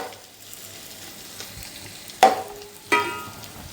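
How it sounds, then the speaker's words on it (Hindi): Chicken fried rice sizzles softly in a pan over a medium-high flame, broken by a few sharp, louder bursts of sizzling and scraping as it is tossed, with no voices. "बस इसको थोड़ा सा फ्राई करना है।"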